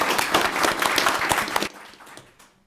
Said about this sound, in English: did you get thunderous applause like that?